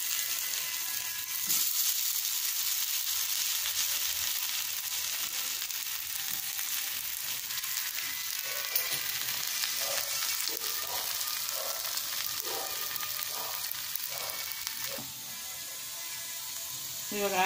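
Potato pieces frying in oil in a covered pan over a low flame, a soft steady sizzle with intermittent clinks and stirring scrapes, close and continuous.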